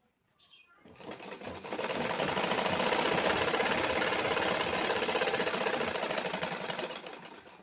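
A sewing machine runs steadily, stitching a straight seam along a strip for a simple blouse, starting after a second of quiet and humming continuously at close range with no talking.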